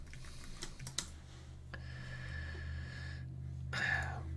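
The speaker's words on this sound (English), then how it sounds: "But you gotta type in the right password" Someone types a password on a computer keyboard: a short, quiet run of separate key clicks, a pause, then a few more taps, close up against a soft room hum.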